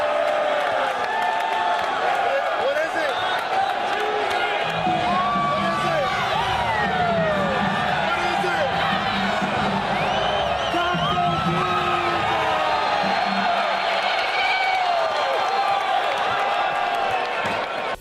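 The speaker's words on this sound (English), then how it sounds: "Here is LeBron and some other fans in a game cheering for Taco Tuesday" Basketball game crowd of fans roaring and whooping in a continuous dense wash of cheering, with scattered shouts and claps rising through a steady, loud arena din.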